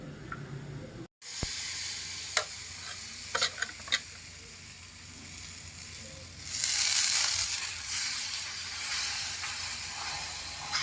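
Gola roti batter sizzles steadily in a hot pan as a grandmother cooks it the old-fashioned way, with a few scraping stirs early on and a louder hissing surge partway through.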